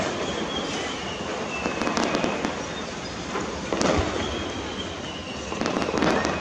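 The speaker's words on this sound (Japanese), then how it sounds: "星が2方向に飛び出すユニークな花火は雲光の手。" Fireworks at the Nagashima opening anniversary display in Japan burst and crackle continuously at a distance, a dense wash of pops and sizzles with occasional louder bangs.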